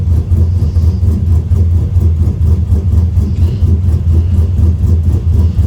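A 6.2 V8 engine with an aftermarket 225/236 cam idling steadily up close, a deep lumpy rumble with a rhythmic loping pulse that stays even throughout.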